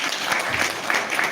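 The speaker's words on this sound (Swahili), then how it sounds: "Bocha, mpigie makofi." Dense, steady applause from an audience at a World Kiswahili Day event at Kisii University, a short continuous burst with no talk over it.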